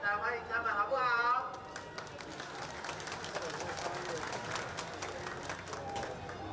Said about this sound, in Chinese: 我们用热烈的掌声来欢迎他们